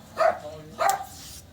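A dog gives two sharp, close barks about half a second apart, loud and alone, with a brief whining tail after the second.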